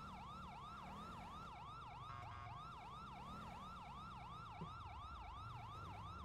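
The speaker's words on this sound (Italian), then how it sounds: "Ho sentito delle altre sirene rispetto alle tue." Police sirens in GTA V FiveM wail in a steady, repeating up-and-down yelp over a low rumble of vehicle engine noise, with several sirens overlapping at moderate distance and no talking.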